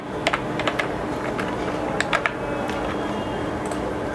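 Fingers tap on a computer keyboard while a search term is entered, producing scattered, light keystroke clicks in small clusters over a soft, steady background hum.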